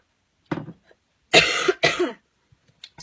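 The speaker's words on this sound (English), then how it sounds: "I just had like a coughing fit then." A woman coughing in a short fit, one early cough followed by two loud, harsh bursts close to the mic, with faint throat noises trailing off afterward and no talk.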